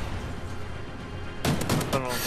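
Gunfire in a Search and Destroy video game match: a sudden burst of several rapid shots erupts partway through, loud over low background game noise.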